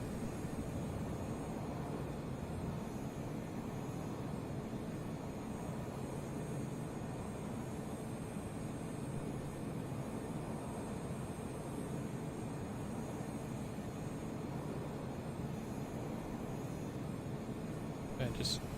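Steady jet engine drone of a To-201 Shikra fighter flying in Arma 3, a continuous even roar held throughout with no breaks.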